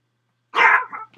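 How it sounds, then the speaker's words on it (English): A dog barks once, loud and close, followed by two shorter, softer barks in a quiet room. "Oh, don't start barking, dog."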